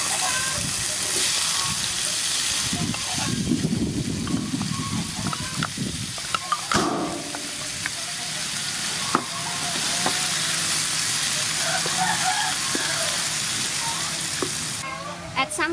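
Potato frying in hot soybean oil with chopped garlic in a stir-fry pan, a loud sizzle that swells in bursts, with scraping stirs and clatters over a continuous hiss.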